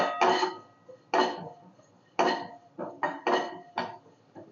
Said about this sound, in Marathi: चला आता तीळ भाजूयात आपण पहिल्यांदा इथं मी दीड चमचा तीळ घेतलेले